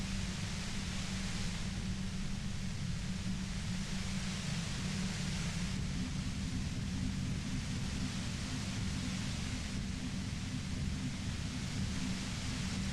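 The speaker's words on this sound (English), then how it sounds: "The violent white noise becomes even more overwhelming closer to the compressor." Loud, violent white noise near a compressor in the infra materialism video game, a dense unbroken hiss and roar that holds steady and close throughout, with no talk.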